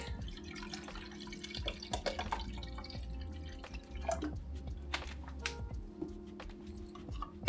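An espresso machine drips a shot into a small cup, soft irregular drips and trickles over a low mechanical hum, close by with no talk.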